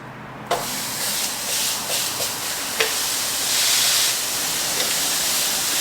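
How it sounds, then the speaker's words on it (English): Water splashed onto a hot grill for burger tacos sizzles in a sudden burst, then a steady loud hiss with a few sharp pops and crackles, close up. "a nice little test to check if your grill is hot enough is splash some water on it"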